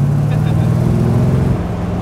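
A 400-horsepower AC Cobra weighing about 950 kilos rumbles loud and steady from the cabin while driving, a deep constant engine drone that eases slightly near the end.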